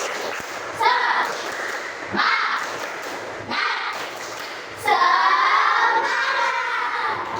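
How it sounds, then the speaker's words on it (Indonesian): Children perform the tepuk semangat spirit clap, rhythmic bursts of claps and thumps in several rounds, each joined by loud chanting and shouting voices. "Yuk, tepuk semangat."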